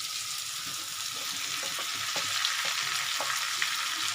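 Cauliflower pieces frying in a hot pan, a constant bright sizzle dotted with sharp crackles and small pops.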